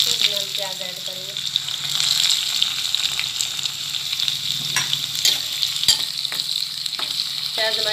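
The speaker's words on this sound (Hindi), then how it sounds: "इसे हम थोड़ा सा और फ्राई करेंगे" Onions sizzle steadily in a hot pan with garlic and chillies, a constant frying hiss with occasional clinks of a utensil stirring, close and fairly loud.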